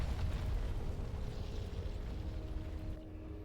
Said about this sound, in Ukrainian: летить гарматний постріл. Це по військовому заводу